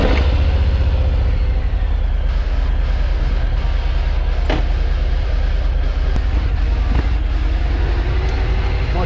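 A custom Harley-Davidson Fat Bob motorcycle in Mad Max style rumbles steadily with a loud, constant low engine drone as it rides off, with faint sharp clicks over the continuous noise.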